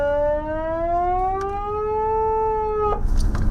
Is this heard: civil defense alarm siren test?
yes